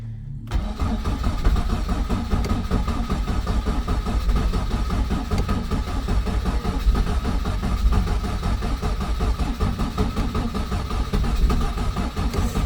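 A Ford Escort Mk1 with a fully charged battery and new starter motor cranks steadily and loudly for over ten seconds, the engine churning on without catching.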